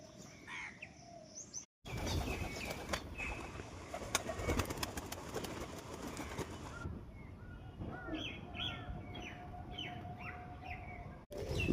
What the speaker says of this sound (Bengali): বুনো পায়রাটা আসার সাথে সাথেই আমার মুখী নর পাগল হয়ে গেছে, ডাকাটাকে শুরু করে দিয়েছে